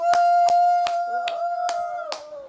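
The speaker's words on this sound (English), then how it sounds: "Clap your hands" Six sharp hand claps at a slow, even pace, close and loud, ringing over a steady tone from a television playing in a home.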